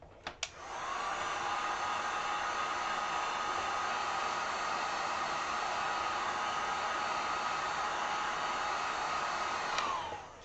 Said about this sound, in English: this one and this one are both a little wet, so we'll do the heat gun one more time here